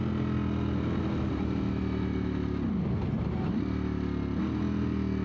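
A V4 sport motorcycle drones loudly and steadily from the rider's position, its engine tone dipping briefly as it shifts gears and then climbing again.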